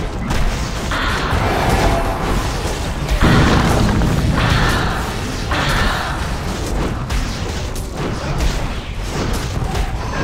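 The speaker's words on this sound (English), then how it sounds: "The Legion have destroyed the Hellborn Tower." A tower crumbles in the Heroes of Newerth video game, with heavy booming crashes and bursts of rubble that swell and recur over about ten seconds amid dense battle noise.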